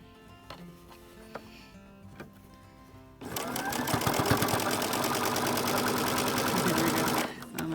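A sewing machine stitches fabric squares corner to corner in a fast, steady mechanical whir, close and loud for several seconds after a few quieter handling clicks, with a brief voice nearby.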